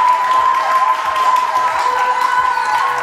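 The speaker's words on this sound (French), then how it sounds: "On l'applaudit très fort, elle sera là." Studio audience applause and cheering on a French TV news-and-entertainment show, loud and continuous with a bright whistle-like tone running through it, no speech on top.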